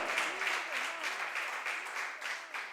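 A church congregation applauds during a sermon, a soft, distant patter of clapping with faint voices rising through it, steady for a few seconds.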